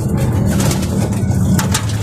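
A Blue Bar pigeon that got loose coos softly and steadily up close, low murmuring calls repeating over a constant background hum with no talking.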